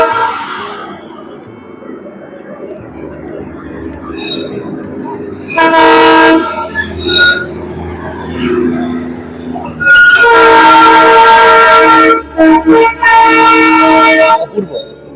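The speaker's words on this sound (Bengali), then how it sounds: "টয় ট্রেন চলে গেল।" A toy train at Hornbill Park near Rongtong, Siliguri, passes with loud blasts of its horn, a first long toot followed by a longer, sustained series of honks over rumbling wheels, heard close up.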